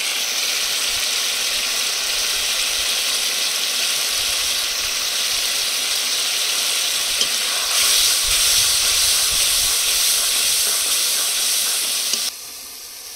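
Sour yogurt and coriander powder hit hot onions fried until reddish in a pan for jackfruit and prawn curry, giving a loud, steady hissing sizzle that swells around the midpoint and drops off sharply near the end, with no talking.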